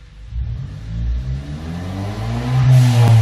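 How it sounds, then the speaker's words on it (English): A Ford EcoBoost engine revved hard past a set threshold and then released, a close, loud rising rumble that climbs steadily in pitch before the throttle lets off near the end. "So we're gonna rev it past the threshold on there, and we're gonna let off the accelerator."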